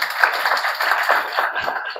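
Audience clapping at a Sony X MFDC masterclass opening ceremony, a brisk crowd of hands patting in quick irregular bursts, fairly loud and close, with no voices over it.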